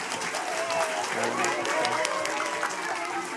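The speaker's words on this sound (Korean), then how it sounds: "우리 큰 박수로 우리 축복하며" A church congregation claps in blessing during a baptism and confirmation service, a sustained crowd applause with voices murmuring and calling out underneath.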